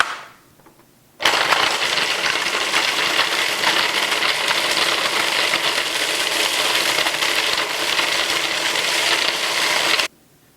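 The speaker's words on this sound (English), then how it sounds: "You want to make sure that it's crushed up fine, so that's why I'm using the food processor." A food processor crushes ingredients with butter for a pie crust, starting abruptly after a second of quiet, running as a loud, steady whirring grind for about nine seconds, then cutting off.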